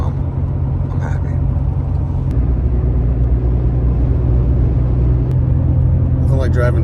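A pickup truck with a Honda D16Y8 VTEC engine drives on a cold day, giving a loud, steady low engine rumble and road noise throughout, with brief clatter near the start and end.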